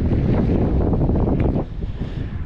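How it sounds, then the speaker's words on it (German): Wind buffets a microphone outdoors on a spring day, a loud close rumbling roar that eases off near the end, with no talk. "Ein bisschen windig, Entschuldigung."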